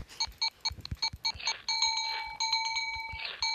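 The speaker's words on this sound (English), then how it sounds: "Oh my god, he got the bell." A chicken strikes a toy bell, a quick series of bright rings that start as short separate taps and run into longer sustained dings, loud and close with no talk.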